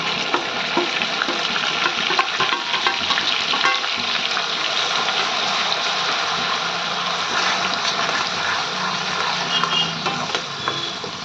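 Onion paste frying in a pan for pav bhaji, a steady dense sizzle with faint stirring scrapes running continuously and fairly loud, with no talk.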